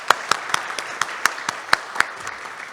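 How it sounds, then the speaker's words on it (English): Several sharp, evenly spaced claps ring out at a city State of the City address, about eight in under three seconds, like a small burst of applause. "Let's give them all a huge round of applause and thank you."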